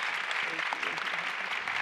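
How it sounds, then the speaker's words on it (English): An audience applauds after a panel discussion on women of colour in politics, a brief steady burst of clapping with a speaker's voice faintly over it. "A big round of applause, please, if you will, to Minyon, Leah, and Jara"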